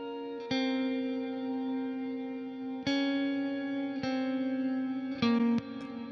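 Clean electric guitar notes and chords are played with a soft, dark delay low-passed at 1.5 kHz trailing behind, the repeats blending gently into the sustained tone.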